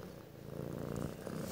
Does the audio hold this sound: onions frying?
no